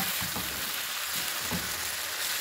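Gola kebab mixture fries loudly in a pan, a dense constant sizzle with soft stirring scrapes layered underneath, close and without speech.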